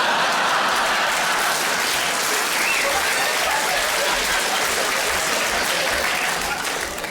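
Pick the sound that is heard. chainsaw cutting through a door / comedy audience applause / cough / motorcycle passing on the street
comedy audience applause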